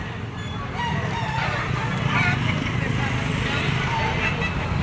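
Yellow-legged stag gamecock crowing at a busy gamecock market, a steady crow amid constant crowd murmur and other fowl clucking, with people talking nearby throughout.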